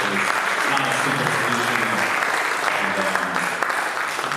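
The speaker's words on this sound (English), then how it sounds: "I think we ought to give everybody a round of applause for all 8 going" Dense, loud audience applause at an energy industry technology showcase, a continuous roar of clapping hands throughout with a low voice faintly underneath.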